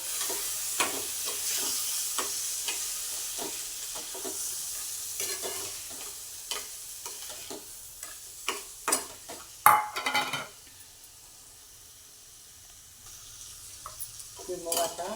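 Fresh green moong beans stir-fried in a pan, with a steady sizzle and repeated scraping and clinking of a spatula against the pan, louder clatters near the middle, and quieter frying toward the end.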